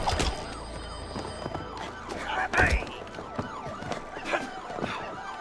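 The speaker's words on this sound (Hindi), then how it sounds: "एम्बुलेंस का साउंड." A wailing ambulance siren in the video game It Takes Two rises and falls over busy game sound effects and faint voices, moderately loud and continuous.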